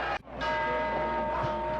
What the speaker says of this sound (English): The bell, the start of round 7